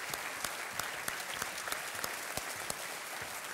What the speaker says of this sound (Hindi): तालियों के साथ इनका अभिनंदन।